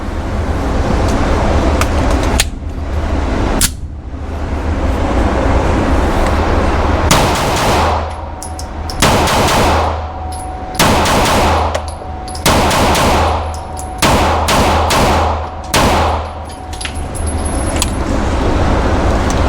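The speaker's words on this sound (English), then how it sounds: "let's put those 147 grains up and let's put some more rounds down range" A firearm fires 147 grain rounds downrange on a shooting range, a rapid string of about a dozen sharp, loud shots in uneven bursts, close to the microphone with no talking.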